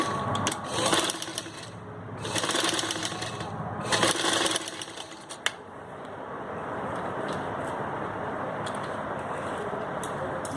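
A sewing machine runs in bursts while stitching gota trim onto a turban, each run a close rapid whir lasting a second or two, followed by a softer steady hum.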